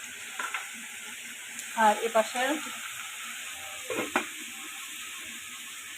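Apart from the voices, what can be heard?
red spinach and shrimp frying in a pan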